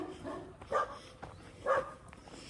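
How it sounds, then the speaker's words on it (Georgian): A dog gives two short barks about a second apart, moderately faint against steady background noise, with no talking. "ძაღლო. გაჩუნდი ახლა."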